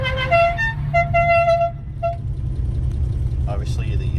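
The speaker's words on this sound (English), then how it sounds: "and it's got a cool horn on it." A vintage Ford Falcon's car horn blares in several short and longer toots in quick succession over an idling engine rumble, followed by a brief voice near the end.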